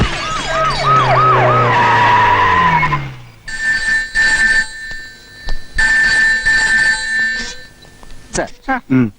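A telephone rings unanswered at a police station, its bell coming in loud, sustained bursts with short gaps, after a stretch of talking at the start.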